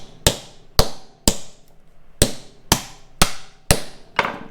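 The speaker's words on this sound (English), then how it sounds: "Just give them a smack. We got a small ball peen here." Eight sharp metallic hammer blows from a small ball peen hammer striking the brake pads on a Kia Forte, landing in an uneven rhythm, loud and close with short ringing decays and no talking.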